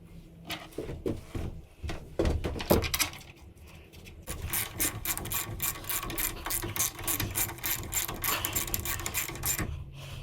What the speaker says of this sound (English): once they're all snug down, you give these a good tighten, and I always go direct opposite.